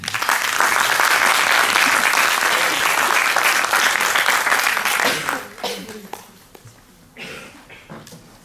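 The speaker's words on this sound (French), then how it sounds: "je vous demande de l'applaudir" Audience applause at a French regional conference on territorial cultures and identities, loud and dense for about five seconds, then thinning to scattered claps and fading.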